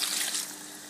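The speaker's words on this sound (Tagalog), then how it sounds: "Isang bowl ng tubig." Water is poured from a bowl into a pot of pinakbet vegetables seasoned with bagoong: a brief, close trickling splash that fades after a moment, with no talking.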